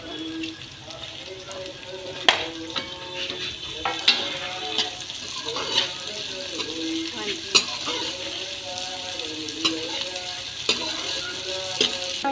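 Okra frying in a pan with onion and green chili added: a continuous sizzle with repeated stirring clatters and scrapes of a utensil against the pan, fairly close, with no speech.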